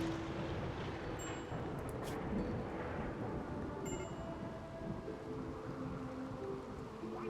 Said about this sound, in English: It's starting to rain, so let's go ahead and get this done quickly.